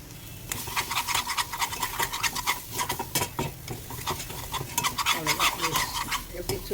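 Ingredients for mango rice sauté in a pan, with rapid, repeated spoon scrapes and clinks against the metal over a light sizzle, close and busy throughout.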